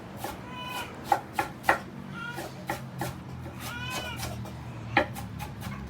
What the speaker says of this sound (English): that's him chopping the cabbage